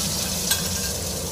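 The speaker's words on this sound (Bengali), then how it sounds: "এটা দিয়েও আমি একটুখানি সামান্য কষিয়ে নেব 2 সেকেন্ডের মতন" Ginger-garlic paste sautéing in hot oil with whole cumin and bay leaf for a Bengali catfish curry, a dense, close sizzle with a brief stir scrape, no voices.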